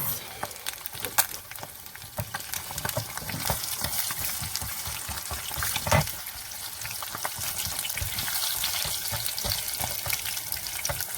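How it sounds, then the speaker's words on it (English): Eggs frying in bacon grease in a pan, a steady close crackling sizzle with scattered pops and stirring clatter running throughout, no talk. "we just used the bacon grease and threw it all in the same pan"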